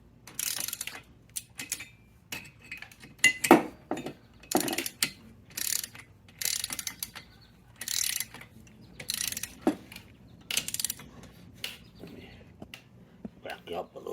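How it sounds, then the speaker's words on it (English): A torque wrench tightens the cylinder head bolts on a 1997 Vespa P200E scooter, giving a series of sharp ratcheting clicks in short bursts separated by pauses, close by, with some faint voice in the background. "we're going to torque the head down to 14 foot-pounds in a crisscross pattern"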